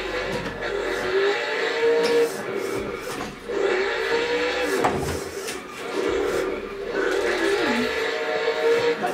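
A car engine in a drift racing video game starts and revs in rising and falling waves, loud and continuous, with a short dip partway through.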